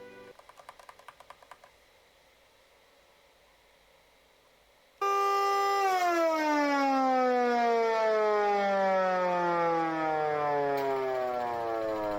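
A homemade siren fitted with cone horns starts with a few brief rattling pulses, goes quiet, then sweeps into a loud, sustained wail whose pitch slides downward and holds steady, close and powerful.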